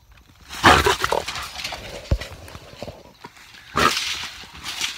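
Small pigs grunting and snorting nearby in a couple of rough, noisy bursts, with scuffling movement in between.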